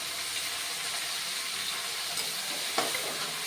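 Tomatoes sizzle in a hot pan of oil with chillies and curry leaves while upma is being made. The frying hiss is steady and close, with a brief sharper crackle near the end and no talking.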